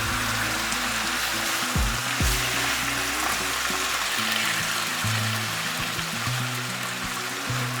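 Tomatoes fry in a pan for shakshuka, giving a continuous bright hiss that stays level throughout, with low tonal background sound running steadily beneath it.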